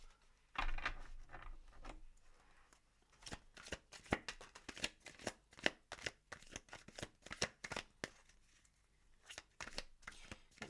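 Tarot cards are shuffled by hand close up, a quick dense stream of flicking and riffling that builds in bursts and keeps going steadily.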